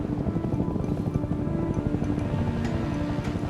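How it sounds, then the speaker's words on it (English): Army helicopters flying overhead, a steady distant low rotor drone with a faint rhythmic pulse, continuous and fairly soft throughout. "Hey, listen! Yeah, helicopters."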